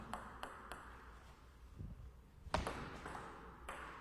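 A table tennis ball is served and returned, with crisp, close pings off bat and table spaced through a quiet practice hall.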